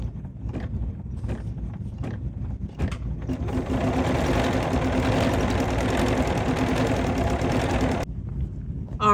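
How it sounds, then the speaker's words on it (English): A BERNINA 990 sewing machine stitches quilting in steady, fast bursts, starting after a few soft clicks and running loud and continuous for several seconds before stopping abruptly. "And now it's time to stitch."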